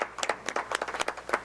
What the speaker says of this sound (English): could we have a round of applause for all of us?